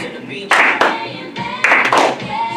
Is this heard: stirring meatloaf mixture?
no